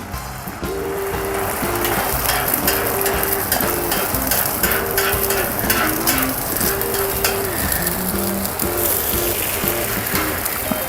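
Breakfast eggs cooking on a Camp Chef flat top griddle outdoors, a steady loud sizzle and spatter running throughout, with a repeating tonal hum underneath and scattered sharp ticks.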